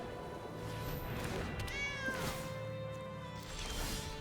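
A cat meows in the MTG Arena digital card game as an enchanted alley cat creature is played, with a stretched, rising and falling call over a steady layer of game music and ambience.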